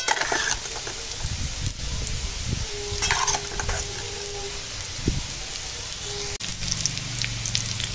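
Bitter gourd and potato frying in oil as chopped onion goes into the pan, a dense rain-like sizzle with stirring scrapes and a few knocks, heard close with no talking.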